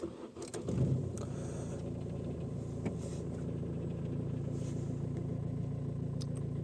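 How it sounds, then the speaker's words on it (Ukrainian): A cold Opel Astra J engine cranks and fires, then settles into a steady, close idle hum that runs on alone. "Я ще не запускав, двигун холодний, зараз буде перший запуск."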